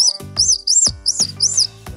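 Whistle candy is blown to mimic a bird: about five sharp, high chirps in a quick, uneven rhythm, each with a short low thump between them, loud and close.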